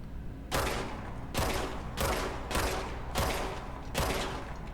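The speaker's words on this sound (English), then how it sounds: "The gun sounds a little different too." Six evenly spaced, sharp gunshots from a weapon in the game Control, each a loud crack with a short decaying tail, fired at a steady rhythm of roughly one every two-thirds of a second.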